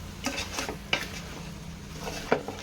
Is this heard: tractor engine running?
no